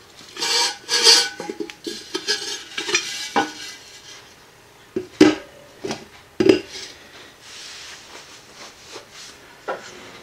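Metal pots, washers and a nut being stacked into a candle heater, giving a run of scraping and clinking knocks, with several sharper clanks toward the end, close by and without talk.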